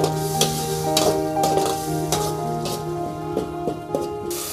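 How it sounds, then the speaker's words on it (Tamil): Masala sautéing in a pan before field crab goes in makes a constant loud sizzle, with rhythmic scraping stirs of a spatula against the pan every second or so. "இது நல்லா பச்சை வாசனம் போகிற வரைக்கும் வதக்கிட்டு அதுக்கப்புறம் தான் நண்டு ஆட் பண்ண போகிறோம்"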